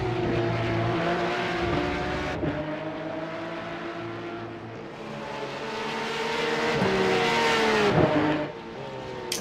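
Porsche 911 GT3 race car engine at Zandvoort in a sim racing game, a loud, close, steady high-revving wail rising and dropping through gear changes and corners, with no talk.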